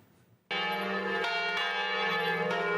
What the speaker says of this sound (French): Les cloches résonnent en ce matin du 1er novembre.